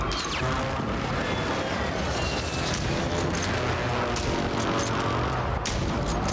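Sustained, dense gunfire from the video game Call of Duty Warzone: loud, continuous automatic bursts and overlapping shots with explosive crackle fill the whole stretch without a break.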